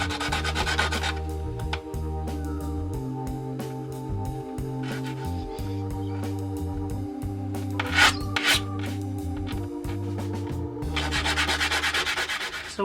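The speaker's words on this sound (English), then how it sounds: "we get it wet, and we start rubbing the opal against that 80 grit sandpaper" An opal rubbed by hand against wet 80 grit sandpaper, a steady close gritty scraping that keeps up throughout with low tonal hum beneath and a few sharper bursts toward the end.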